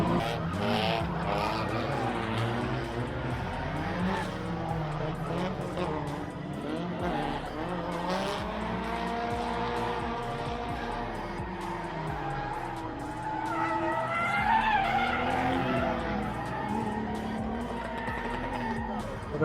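Cars drift with squealing, skidding tires in the drift zone of the ULTRACE 2021 car event. Engines roar and tires screech continuously and loudly, with voices in the background.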